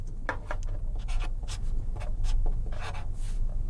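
A pen scratches across paper in quick, close strokes and short scribbles, a steady run of light rubbing marks with no talking.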